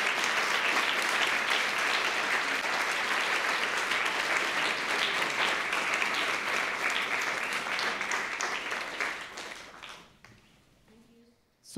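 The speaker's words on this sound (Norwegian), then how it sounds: "I suggest that we give him a big applause" An audience applauding after an economics seminar, dense sustained clapping that holds steady for about ten seconds, then thins and dies away with a few scattered claps and faint voices.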